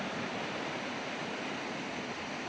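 Open sea waves washing on the Spanish coast, a broad steady rushing wash that stays even and close from start to finish, with no voices over it.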